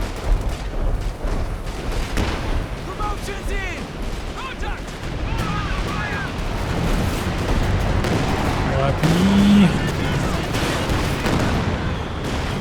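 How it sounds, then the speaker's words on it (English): An assault artillery barrage in the strategy game Company of Heroes 2 pounds away as dense, overlapping explosions and rumbling gunfire, building in intensity, while someone talks over the battle noise. "Assault artillery getting dropped."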